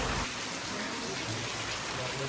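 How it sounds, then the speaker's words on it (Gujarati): Dense, steady rain pours down, a continuous loud hiss of water hitting surfaces with no pauses. "વરસાદ ફૂલ છે ભાઈ, ધોમ ધોકાર."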